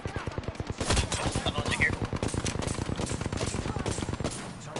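Rapid automatic gunfire from the video game Apex Legends rattles in a fast, steady stream of close, loud shots for several seconds, with a few faint higher pops in the background.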